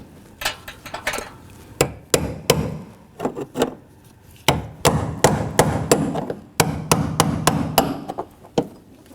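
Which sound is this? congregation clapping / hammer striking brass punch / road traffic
hammer striking brass punch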